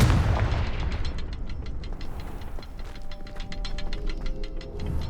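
A Confringo blasting spell in the Hogwarts Legacy video game, opening with a heavy blast, then a fast series of sharp crackling pops and ticks that keep going at a moderate level.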